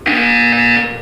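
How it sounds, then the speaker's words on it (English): A single electronic buzzer from the Portal 2 video game sounds as one loud, steady tone lasting about a second, then fades. "You will hear a buzzer."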